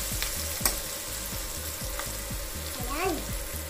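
Garlic sizzling and being stirred in a hot pan for shrimp biryani, with steady frying crackle and repeated scraping strokes of a utensil, close and moderately quiet.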